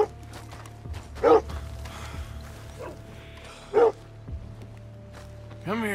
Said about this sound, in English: before you see her, you will hear her barking.